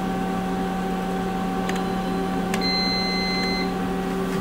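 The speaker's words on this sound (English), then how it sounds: "Just beep that it's done." A cutting machine gives a few short electronic beeps signaling the job is finished, heard over a steady mechanical hum, with one clear beep near the middle of the clip.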